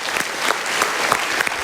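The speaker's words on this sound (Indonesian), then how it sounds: "tepuk tangan sekali lagi untuk Lydia, boleh semua" Studio audience at a motivational talk show applauding a guest, a dense continuous burst of many hands clapping, close and lively with a few sharper claps standing out.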